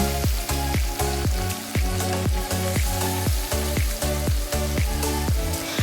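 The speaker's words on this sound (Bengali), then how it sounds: "তো এবার আমি কড়াইতে তেল দিয়ে তেলটা কিন্তু আমি ভালোভাবে গরম করেছি দেখতেই পারছো তো এবার আমি মাছগুলো আস্তে আস্তে করে চারদিকে ছড়িয়ে দেব" Small mourala fish fry in well-heated oil in a wok for a Bengali-style spicy dish, making a dense, continuous crackling sizzle with a pulsing, rhythmic undertone throughout.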